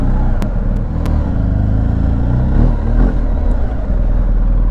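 A BMW R1250GS motorcycle engine drones steadily up close and loud, its boxer rumble holding through the whole stretch with a few sharp clicks and light rises in pitch.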